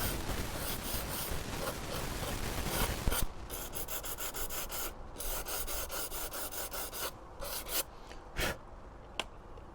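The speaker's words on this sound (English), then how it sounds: "now I've sanded it nice and smooth" Hand sanding the cut edge of an outlet cover plate, a steady rasping rub for the first few seconds, then softer scattered strokes with brief pauses, close up and alone.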